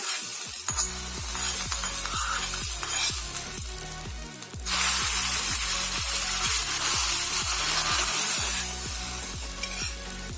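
A tempering fried in hot oil sizzles loudly and is tipped into avarekalu (field bean) sambar. A strong surge of hissing comes midway, over a steady, rhythmic low hum, with no talking.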